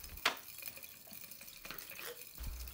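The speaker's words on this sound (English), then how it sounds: "Again, enough distilled water to dissolve all of the sodium benzoate is added." Distilled water is poured into a laboratory beaker holding sodium benzoate, with a quiet trickle and splash that begins in a sharp burst and then runs on softly with small drips.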